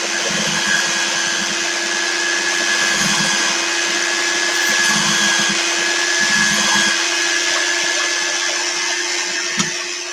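A power tool runs continuously with a steady high whine and hiss while working soft wood on a workshop bench, with a few bursts of lower scratchy grinding as the surface is scuffed.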